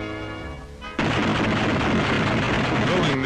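Machine guns on P-47 fighters test-fired by ground crews, a sudden loud sustained burst of rapid gunfire starting about a second in and continuing densely to the end.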